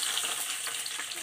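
A brief, continuous hot-oil crackle and hiss comes from a tempering of dried red chillies, whole garlic and bean seeds frying in a pan, close and even throughout.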